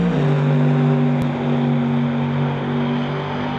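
A '67 Camaro drag race car finishing its qualifying run on a racetrack, its engine a steady, loud droning roar that fades slightly as the car moves away, with no voices over it.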